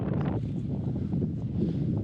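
Strong wind buffets the microphone on a foggy mountain peak, a steady, loud low rumble with gusty roaring throughout.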